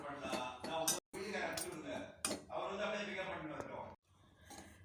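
Wheat and coconut powder roasting in a pan are stirred continuously, producing light metallic clinks and scrapes of the utensil against the pan while a voice talks throughout.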